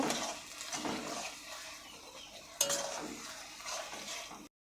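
Garlic paste frying and being stirred in a pan for chicken rezala, with a steady close sizzle, scraping stir strokes throughout and a sharper clatter partway through.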